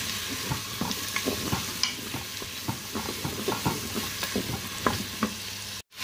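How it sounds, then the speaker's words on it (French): Onions and leek sautéing in butter inside a Cookeo multicooker pot give a constant hissing sizzle, punctuated by frequent light spoon scrapes and taps as they are mixed, cutting out briefly near the end. "je vais commencer par faire revenir les oignons et le poireau. Donc je mélange bien."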